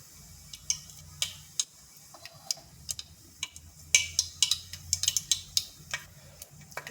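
Mustard seeds crackling in hot oil, sharp irregular pops and snaps scattered across a quiet background, growing denser toward the end, close and fairly crisp, with no talking.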